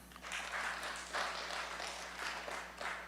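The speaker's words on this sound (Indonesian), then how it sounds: "Tepuk tangan." Church congregation applauding in bursts throughout, a soft, fairly distant wash of clapping with a steady low hum underneath, no voices over it.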